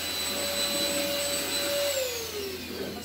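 A cordless stick vacuum cleaner runs with a steady high-pitched whine and airy motor hiss, close and continuous, its pitch dropping slightly near the end.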